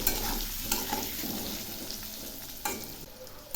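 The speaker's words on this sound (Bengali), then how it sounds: "আলুগুলো খুব ভালো করে ভেজে নেব।" Potatoes sizzle and crackle frying in hot oil, with occasional stirring scrapes in a pan; no talking.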